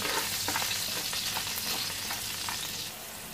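Cinnamon bark and star anise frying in hot oil in a pan for adobong pata, a loud, steady close sizzle with faint stirring scrapes running throughout, easing slightly at the end.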